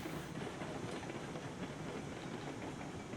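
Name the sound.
freight train running, from the video game Railroads Online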